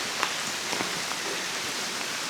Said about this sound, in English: Even under these trees the rain is scalping down.